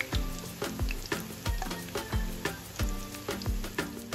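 Saltfish (codfish) fritters sizzle in hot oil, a steady frying hiss punctuated by regular soft thumps and clatter as they are turned over, close and alone without talk.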